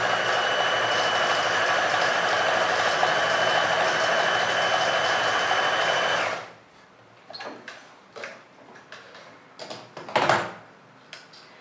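A sewing machine stitching trousers runs in a steady, continuous whir for about six seconds, then stops, followed by scattered light clicks and handling noises.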